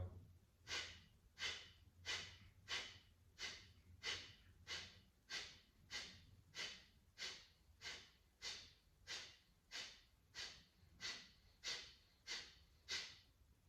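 Quick, rhythmic forceful breaths during a yoga breathing exercise in a morning vinyasa session, about sixteen sharp nasal puffs at a steady pace, close and fairly quiet, with no talk.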